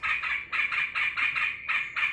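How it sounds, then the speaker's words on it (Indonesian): Pet sooty-headed bulbul at home giving a rapid, rhythmic run of bright repeated chirping notes, close and clear, with no talking. "Pulang kerja langsung disambut dengan burung terucukan tercinta."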